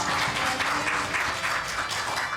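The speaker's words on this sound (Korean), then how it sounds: "큰 박수로 영광의 하나님을 올려드리겠습니다" Church congregation applauding together during a Sunday worship service at Tampa Duranno Church, a steady wash of many hands clapping at moderate volume, sustained without a break and with no voices rising above it.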